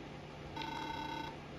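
Synthesized beep-like vocal from a character in the rhythm game Friday Night Funkin, a steady electronic tone with harmonics held for under a second, moderately loud over a faint background hum.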